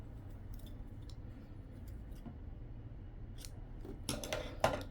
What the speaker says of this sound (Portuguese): Agora, esse fio eu já posso cortar.